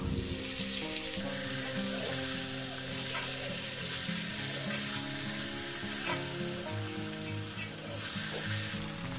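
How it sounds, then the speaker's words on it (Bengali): Fried cauliflower tossed into a pan of spiced masala for a potato, cauliflower and carrot dish, loud continuous sizzling and frying with stirring scrapes throughout, close up with no talk. "এবার ভেজে রাখা ফুলকপিটাও দিয়ে দেবো।"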